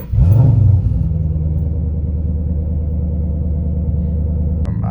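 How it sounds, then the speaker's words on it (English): A Shelby GT500 fired up after a fresh Lund tune: a brief starter catch and rev, then a loud, steady, deep idle rumble close by, running alone with no voices. "Turn the key off and then start the vehicle."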